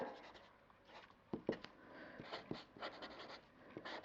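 Pen scratching on paper during a French grammar lesson for middle-school students, a series of soft, irregular taps and strokes heard close and quietly.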